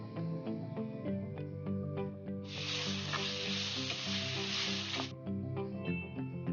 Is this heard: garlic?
yes